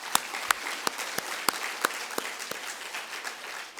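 A symposium audience of early childhood educators applauds, with sharp, distinct claps from a few nearby hands standing out over a softer, continuous patter of clapping across the room.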